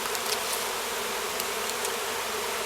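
Honeybees from a swarm out of a foulbrood colony drone in a steady, dense buzz, fairly close, with a few individual bees flickering past over the continuous hum; no voices.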